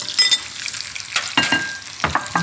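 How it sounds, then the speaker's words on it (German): Cabbage and other vegetables for a cabbage-peanut stir-fry being stirred in a sizzling pan, with a few sharp scraping and clattering strokes over a soft frying hiss. "ich glaube, das Gemüse muss nochmal gerührt werden"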